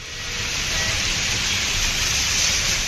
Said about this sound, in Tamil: கிருஷ்ணகிரி மற்றும் அதன் புறநகர் பகுதிகளில் 5 மணி நேரத்திற்கு மேலாக மழை பொழிந்ததால் சாலையில் தண்ணீர் பெருக்கெடுத்தது.